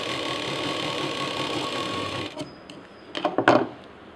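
A sewing machine stitching fabric pieces for a zipless tiffin case runs in a steady, loud whirring burst for a couple of seconds, then stops and gives a few short clicks and clatters as the work is adjusted.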